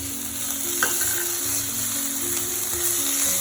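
Ginger and garlic paste hits a hot pan and sizzles loudly and continuously, a dense close frying hiss with a faint low hum underneath and no voices.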